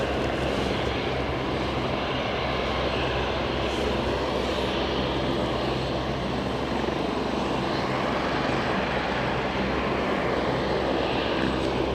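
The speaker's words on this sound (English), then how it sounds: "So we've got an ATR departure." An ATR 72-600 turboprop departs Aberdeen airport, its engines a loud, steady broadband roar that holds without pause for the whole stretch, heard alone with no voices.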